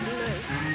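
Rain falls outdoors in a brief, steady, even patter across the surface, with no talk.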